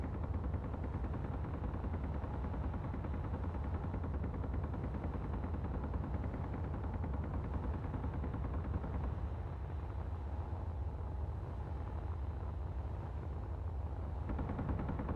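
Turret gunfire in Space Engineers: a continuous dense, rumbling barrage of rapid shots with heavy low-end, steady and loud throughout with no pauses.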